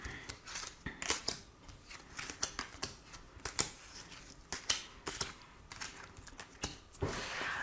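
Tarot cards are shuffled by hand for a reading, a close run of quick papery riffles and flicks in irregular bursts with sharp snaps between them, with no talking.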